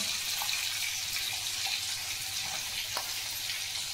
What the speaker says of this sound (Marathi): मस्तपैकी कांदा तेलामध्ये घातलेला आहे आणि थोडा कांदा लाल होऊन द्यायचा